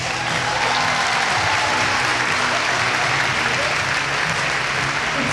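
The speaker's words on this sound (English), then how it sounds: "So give yourselves a round of applause." A crowd at a community Battle of the Blades event applauds in a thick, continuous burst of clapping that stays loud and even throughout, with faint voices mixed in.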